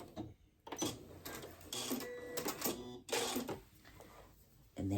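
Sewing machine back stitching a seam on a braided twist placemat, a fast whirring stitch run that stops and restarts in bursts, close and fairly quiet with no talking.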